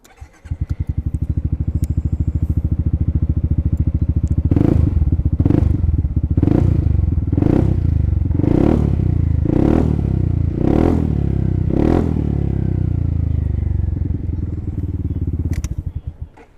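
A Yamaha X-Max 300 scooter engine idles with a steady low rumble, then revs sharply about eight times in a regular rhythm before settling back to idle; close and loud.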